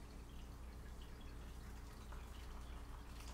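Quiet trickle of water poured over Addis Ababa coffee grounds to bloom them, a soft, close, continuous splashing with faint dripping and no talk.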